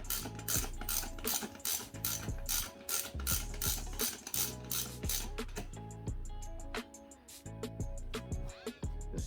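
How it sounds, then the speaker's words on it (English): A hand ratchet tightens the front axle nut on a Honda Grom motorcycle, giving rapid, loud, close clicking bursts in quick strokes with brief pauses, and no voices. "We got our 14 and 19, and we'll just lightly tighten the axle."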